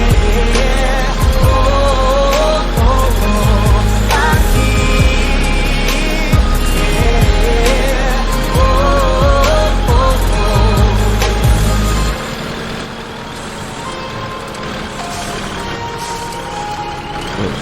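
A Scania 113 flat-nosed cab-over truck on a road trip engages its engine brake, producing a loud, rhythmic low-pitched exhaust pulsing that continues steadily and then cuts off abruptly, leaving a quieter running hum.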